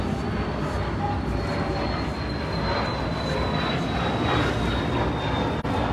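Airplane passing overhead above an outdoor dog play area, a broad steady roar with a faint whining tone that slowly shifts, filling the background without talk.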